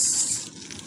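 Water flowing beneath a seaside bridge, a continuous hissing rush that is fairly loud at first and then eases slightly, with no voices.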